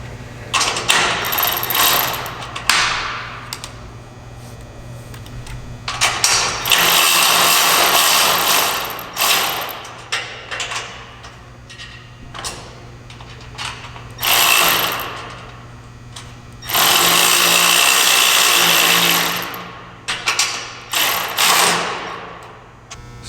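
Hardware is tightened on a CNC router expansion kit, giving repeated ratcheting and mechanical clicking bursts of varying length, some long and loud, separated by quieter gaps with no talking.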